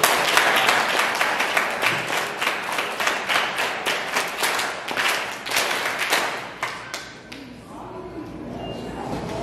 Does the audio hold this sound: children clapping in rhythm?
yes